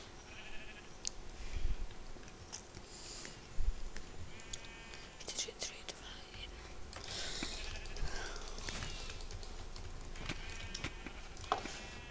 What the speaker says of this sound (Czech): Bože, ovečka.